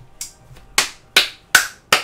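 A handful of sharp, separate hand claps at a slow, uneven pace, close and crisp with quiet gaps between them.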